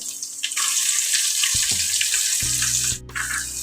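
Chopped onion sautés in a pan for tomato rice, a bright steady sizzle close up with a few knocks and scrapes of a spoon against the pan.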